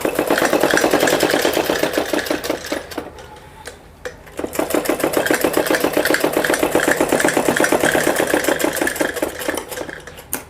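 A sewing machine stitches a Patiala salwar in loud, rapid, steady needle clatter that pauses briefly near the middle and then resumes at the same pace until the end.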